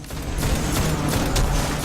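Dense, continuous gunfire from the Destiny video game, a steady roar of overlapping shots with no clear gaps between them, loud and close throughout.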